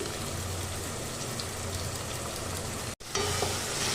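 Ginger paste and tomato puree fry in a pan with a loud, dense sizzle like steady rain, briefly cut off by a short gap before the hiss resumes.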